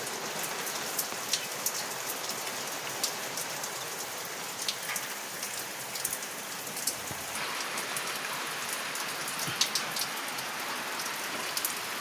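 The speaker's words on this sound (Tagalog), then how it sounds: "malakas po itong ulan na to" Heavy rain pours steadily on a day of much-needed downpour over garden plants, a dense continuous hiss of drops drumming on surfaces, loud and unbroken throughout with no voices.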